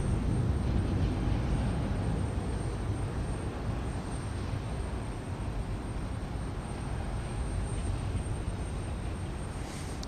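A jet airliner on flight 1682 to Atlanta rumbles at Houston Intercontinental Airport, a broad steady roar with a faint high whine above it, held at one level throughout.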